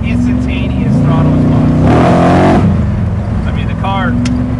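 Someone's 1956 Ford F-100 truck, tuned, revving hard in third gear with quick throttle response, a loud close engine rise and fall, with someone talking over it.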